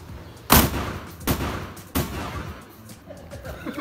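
New Year firecrackers go off in three sharp, loud bangs about 0.7 seconds apart, each with a short crackling tail, amid faint background voices.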